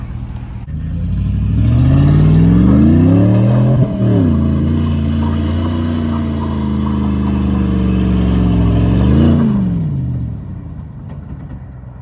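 A 2008 Ford F-150 Lariat pickup with a 5.4 V8 revs loudly and close, climbing to a sustained high idle roar, dipping sharply, holding, then swelling once more before settling back down.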